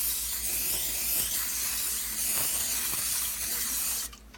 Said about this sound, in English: we use some of this cooking spray